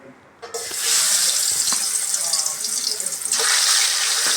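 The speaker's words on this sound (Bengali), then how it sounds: "তেলটা গরম হয়ে গেছে এখন আমি মাছগুলো ভেজে নেব" Aor fish fries in hot oil in a home Bengali kitchen, giving a loud, steady, close hiss that starts suddenly and swells slightly louder near the end.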